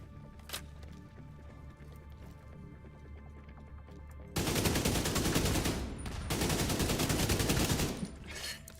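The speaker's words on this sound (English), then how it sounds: "Launching grenade." A grenade launcher fires in the video game The Division, a quieter stretch giving way to a loud, dense burst of gunfire and explosive crackle that runs for several seconds with a brief break.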